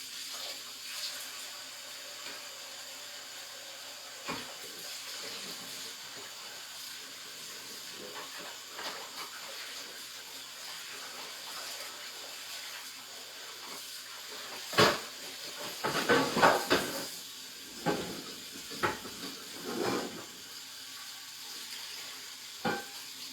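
A pan being washed in a sink under a running tap, with a steady broadband water hiss throughout and clattering, splashing bursts of handling near the end.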